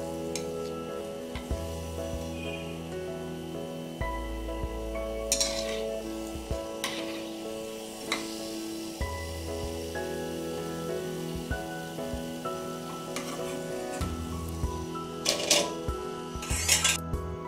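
Achappam batter fries in hot oil with a rose-shaped mould, giving a steady soft sizzle broken by clinks and taps of the metal mould against the pan, with bursts of louder bubbling and crackling as it dips in.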